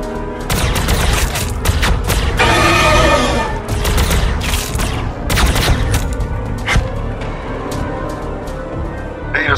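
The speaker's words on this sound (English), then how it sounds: "Firing on the enemy." Dense battlefield gunfire from the Warhammer 40,000: Battlesector strategy game, with loud overlapping volleys, booming impacts and rapid bursts filling the whole stretch, a brief swelling roar near the start.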